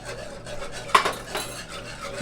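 Cream dumped into a pan for turkey a la king, with soft utensil scrapes and one sharper clink and splash in the middle, close and alone.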